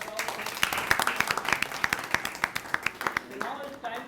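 A small audience claps after a poem recitation at an indoor student gathering, with sharp, uneven hand claps that thin out toward the end, heard fairly close with voices murmuring underneath.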